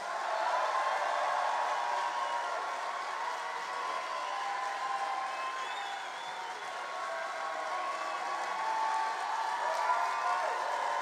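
A New York audience applauds Senator Bernie Sanders with a dense, steady wash of clapping that holds at an even level for about eleven seconds, with no talk over it.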